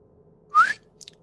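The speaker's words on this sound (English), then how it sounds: "can you not whistle? Because that's really hard on my ears" A person whistles a single short rising note, clear and fairly close, followed by a couple of faint higher chirps over a quiet background hum.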